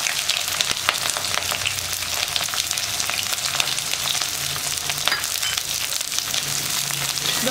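Chopped ginger, garlic and green chilli sauté in sesame oil over mustard seeds for a sweet and spicy pineapple pickle, giving a continuous close sizzle with soft stirring scrapes and no talk.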